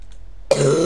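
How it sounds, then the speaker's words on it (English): One close cough bursts out after a quiet start and trails off into a rough, breathy sound. "sorry about the coughing"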